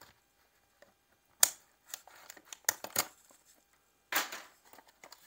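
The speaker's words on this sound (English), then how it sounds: "Let's break out the old scissors once again here" Scissors snip and crunch into the packaging of a trading card box in a few irregular bursts, close and faint, with short rustles and quiet gaps between cuts.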